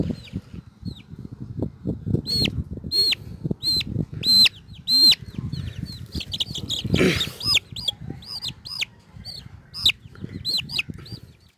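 Hens clucking and squawking during vaccination on a poultry farm, with repeated sharp calls and agitated clucks over rustling and handling noise, fairly close and busy throughout.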